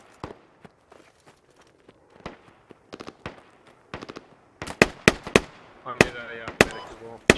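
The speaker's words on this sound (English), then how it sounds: "Shots from the southeast." Gunfire in the tactical shooter Squad during a competitive match, scattered faint distant shots at first, then a denser run of loud, sharp reports near the end, with a voice talking over the final shots.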